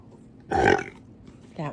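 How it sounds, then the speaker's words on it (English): A dog lets out a short, loud burp, with a brief vocal sound just after. "Can you give me a burp?"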